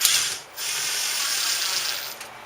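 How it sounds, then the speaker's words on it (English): An impact driver sinks a lag bolt into wood in a garage, with a loud, dense rattling hammer burst that drops out briefly and then runs steadily to the end. "You could use a lag bolt, and you could use your impact driver,"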